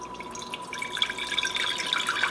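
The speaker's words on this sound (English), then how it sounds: "we're opening another jar and we're going to pour our contents out in here." Liquid from a jar of home-canned cherries in wine is poured out into a container, making a close, continuous trickle with light splashy drips throughout.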